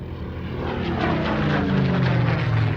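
A propeller aircraft flies a display at the Farnborough air show, its engine a steady, loud droning roar that swells slightly as it passes, with no other sounds.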